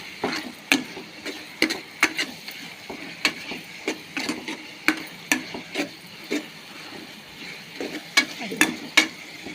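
Fenugreek leaves being stirred and fried in groundnut oil, with repeated sharp scraping and clacking strokes in an irregular rhythm over a soft, steady sizzle, close and fairly loud.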